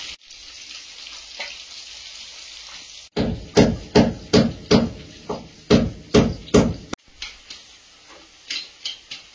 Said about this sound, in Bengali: আলুগুলো ভাজতে দেবো।